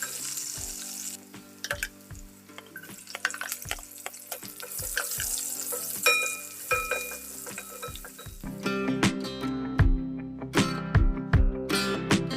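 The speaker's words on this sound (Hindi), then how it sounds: "तो अब मैं यहाँ पर दाल को फ्राई कर लेती हूँ।" Dal frying with cumin, mustard seeds, curry leaves and green chili, a crackling sizzle broken by sharp clinks and knocks of utensils, followed by a louder burst of hissing and rushing water near the end.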